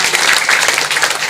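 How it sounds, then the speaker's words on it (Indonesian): Loud, dense applause from an audience at a village composting event, honoring the village head and a local sugar factory, with steady clapping filling the whole short moment. "Tepuk tangan untuk Pak Lurah dan PG."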